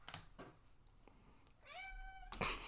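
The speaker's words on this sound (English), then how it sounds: "You keep meowing, you're going to have to show your face." A cat meows once in a rising, drawn-out tone mid-clip, set between scattered clicks and thumps nearby.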